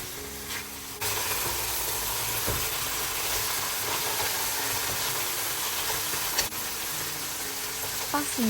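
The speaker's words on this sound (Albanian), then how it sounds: "i hedhim pak vaj ulliri ose çfarëdo lloj vaji të dëshironi dhe i skuqim mirë" About a kilogram of lamb meat fries in olive oil in a pot, a continuous close sizzle starting abruptly after a quiet second and holding steady with faint crackles.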